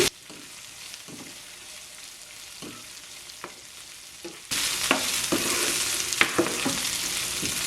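Curry leaves and green chillies are sautéed in a pan for black chana sundal, first a soft sizzle with scattered stirring knocks, then a sudden louder, dense frying hiss with spatters partway through.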